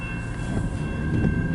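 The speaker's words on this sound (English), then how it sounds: "Here goes the train." A CN eastbound train led by autocarrier cars rolls past at a crossing, with a steady close rumble of wheels and car bodies and faint bell or signal tones holding throughout.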